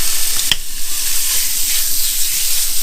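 Pork loin chops hit a hot pan, bursting into a loud, close, continuous sizzle and hiss of frying fat that holds steady with no talk over it.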